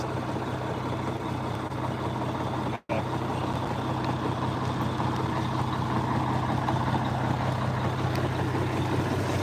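A Mack R600 truck rumbles along with a steady, heavy diesel drone and a constant low hum, loud and close, cut by one abrupt instant of silence partway through.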